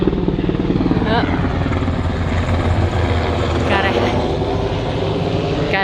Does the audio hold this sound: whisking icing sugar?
no